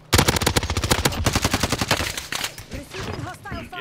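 Video game gunfire, a loud close rapid burst of automatic shots in a steady stream that fades out, followed by voices talking.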